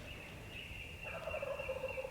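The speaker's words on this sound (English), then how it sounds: "I am surrounded by birds" Wild turkeys gobble at dawn on opening day of Missouri turkey season, faint and distant, with one rattling gobble following another over a steady background hiss.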